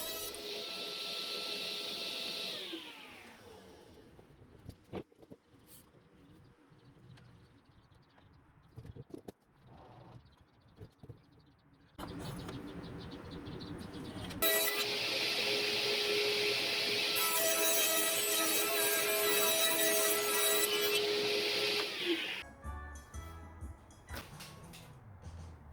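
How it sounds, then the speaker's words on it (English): A planer working pine boards down to an even thickness, with a loud, dense, steady machine roar across several passes, broken by quieter stretches of clatter and handling noise. "I have to plane down the pine boards, get them to an equal thickness"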